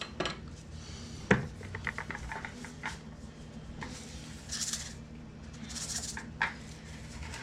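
A small spatula scrapes and scoops lemon cupcake batter between paper-lined cups, giving soft clinks, a sharp tap near the start and a few gentle squishy scrapes, close and moderately quiet with no talking.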